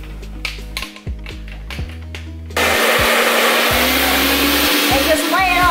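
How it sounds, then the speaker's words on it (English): A blow dryer is switched on partway through and roars steadily and loudly while setting a wig during a first-time install, after a stretch of stop-start whirring motor noise. "and then I take this blow dryer."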